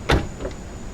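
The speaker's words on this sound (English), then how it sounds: "So you close the door." The door of a GMC Yukon Denali swings shut with a single solid thump after a latch replacement, followed by a brief faint mechanical click in a quiet space.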